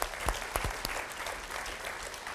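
Audience applause at a school reading event, a dense, steady patter of clapping hands with a few louder claps early on, heard alone.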